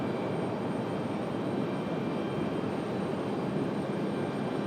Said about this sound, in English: 757 off to Memphis. UPS 97 at 71. Runway 23 left, clear for takeoff.